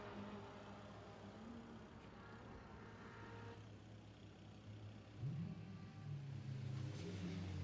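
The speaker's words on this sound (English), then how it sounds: "I think the windy noise of all the cars" Faint, steady engine drone and whooshing wind noise from racing cars in a video game, with a low rumble rising slightly toward the end.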